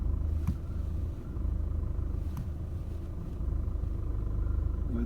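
A used car's engine runs steadily during a clutch check, giving a continuous low rumble with a couple of faint clicks and no talking.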